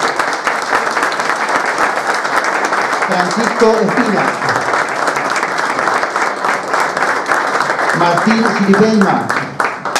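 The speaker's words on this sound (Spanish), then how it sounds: "Un aplauso, por favor" Sustained audience applause at an anniversary ceremony for Laguna Blanca National Park, steady clapping throughout while a voice reads out names over it.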